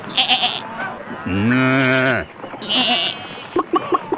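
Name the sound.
sheep and goats bleating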